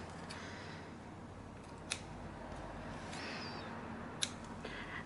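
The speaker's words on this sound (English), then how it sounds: "I've trimmed the excess elastic off on this slip pocket. I'm just going to do the same on this pocket." Scissors snip through excess elastic on a sewn bag pocket, with two crisp cuts spaced a couple of seconds apart against a quiet room.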